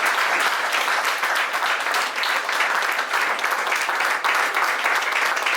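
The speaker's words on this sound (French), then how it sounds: "Applaudissez très fort." A church congregation applauding loudly during a Sunday worship service, a thick, sustained wash of many hands clapping at once, close and full, running unbroken for several seconds.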